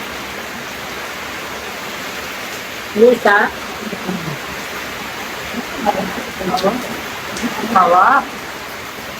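Heavy rain falls as a steady, dense hiss across the whole stretch, with people talking briefly over it outdoors.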